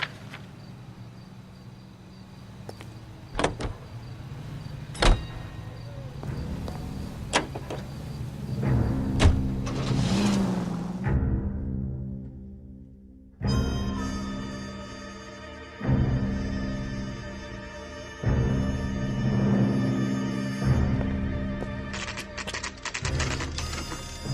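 A car drives in the video game LA Noire, its engine hum running through traffic with intermittent clicks and thumps, and a tonal game sound taking over in the second half, with no talk.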